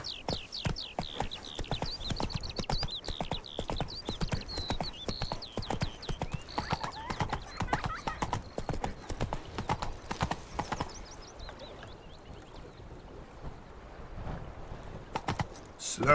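Roach the horse trotting in The Witcher 3, a steady, close clip-clop of hooves with a high whinny-like cry early on and faint wind behind, continuing alone throughout.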